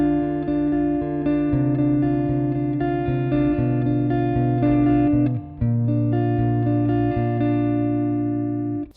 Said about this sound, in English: But the second time we got this descending bass line, it sounds like this.